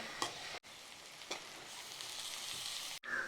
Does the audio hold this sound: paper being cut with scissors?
no